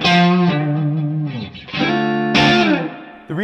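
Electric guitar played through a Two-Rock Classic Reverb Signature 50-watt amp head, with sustained, harmonically rich notes that bloom and ring out in a few long phrases. It is loud and close, with a short gap before the final note.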